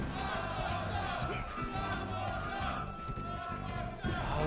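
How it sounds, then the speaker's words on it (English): A crowd at a Super Smash Bros. Melee tournament match cheers in a dense, continuous roar, with commentators talking over the noise throughout. "Crowd cheering for one more stock."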